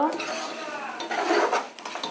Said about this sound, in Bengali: তো এখন আমি মশলা শুদ্ধ মাংসটাকে সুন্দর করে কষিয়ে নেব।